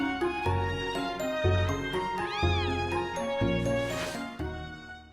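Several kittens in a video game meow repeatedly over a steady electronic tune with chiming notes, the cries bright and close.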